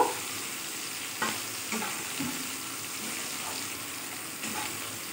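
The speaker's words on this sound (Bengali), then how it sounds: "এগুলো সব একটু ভালো করে নেড়ে ভেজে নেব।" Capsicum and onion stir-fried in a pan over low gas, giving a faint steady sizzle with a few soft scrapes and clinks of a stirring utensil, close and without talk.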